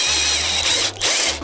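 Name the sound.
drilling a banjo part with a step drill bit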